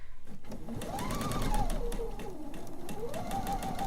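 Sewing machine stitching quilt blocks together in a home basement, a fast, steady mechanical whir and needle patter at close range, rising and falling slightly in speed, with no talk.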